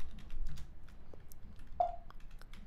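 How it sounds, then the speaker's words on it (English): Typing on a Mac computer keyboard while editing a .zshrc file in a terminal: soft, quick key clicks in an irregular patter, fairly quiet and close, with no talking. "I will press I from the keyboard and I will write export here."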